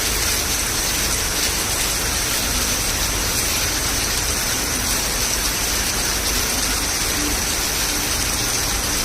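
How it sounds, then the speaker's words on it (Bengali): Steady, dense rain pours down without a break in Bangalore, a loud continuous hiss of heavy rainfall with no voices. "কিরকম প্রবল হারে বৃষ্টিটা হচ্ছে।"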